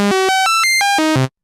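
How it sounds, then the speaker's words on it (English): An Omnisphere synth patch whose pitch is swept by a mod envelope, playing as a single bright, buzzy tone that steps upward through several distinct notes, then steps back down, stopping abruptly after about a second and a quarter, with no voices. "that would be the mod envelope. It will sound like this."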